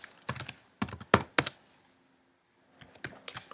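Typing on a computer keyboard while editing CSS code, two quick clusters of close, crisp key clicks separated by a short silence.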